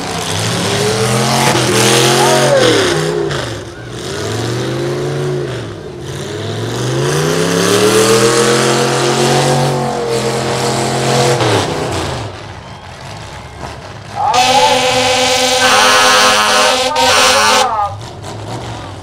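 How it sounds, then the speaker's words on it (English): Demolition derby cars at the Chautauqua County Fair in Dunkirk, NY, with engines revving and surging loudly throughout, heavy rumbling and rising pitch sweeps, and a sustained high blaring stretch near the end. "Number 15 gets ready to do a 50-50 hit here."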